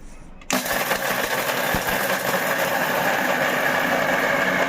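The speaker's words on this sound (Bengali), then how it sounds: "আমি হাফ ঢেলে নিয়েছি মিক্সির জারে আর হাফ গুঁড়ো করে নেব" A kitchen mixer grinder powders Glucon-D in its jar, starting abruptly with a loud, steady whirring roar that runs continuously to the end.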